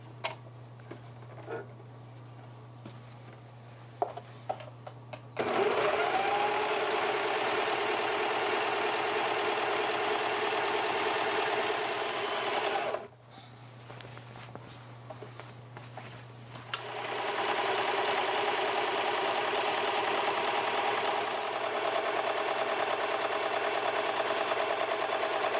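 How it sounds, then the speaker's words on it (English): A serger runs steadily at close range, finishing the side seams of a patchwork skirt in two long continuous bursts separated by a short pause, with no voices. "So I'm going to use my serger."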